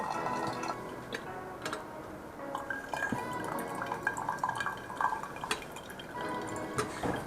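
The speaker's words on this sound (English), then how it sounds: "I'm going to clean out the paper taste by pouring water over it" Water trickles through a paper filter in a V60 coffee dripper, a soft steady drip-and-pour wash with small tapping drops, heard alone and fairly close.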